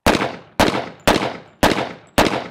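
An AF2011-A1 double-barrel 1911 pistol fires five loud, sharp shots in a steady rhythm about half a second apart, each with a short decaying echo, close by on a shooting range.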